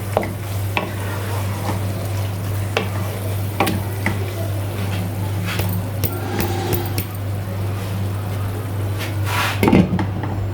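A spoon stirs mutton qeema with fresh cream in a pan, scraping and clinking against the metal at close range over a low steady sizzle, with scattered sharp knocks.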